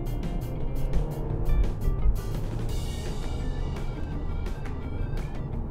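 A BMW G22 420i accelerates under throttle, its engine note rising steadily from inside the cabin, with a smooth gear change partway through.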